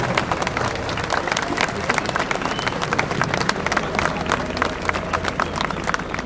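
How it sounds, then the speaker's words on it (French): A crowd applauds steadily for several seconds, dense clapping from many hands with some background noise and faint voices mixed in. "Vous pouvez applaudir très fort Damien."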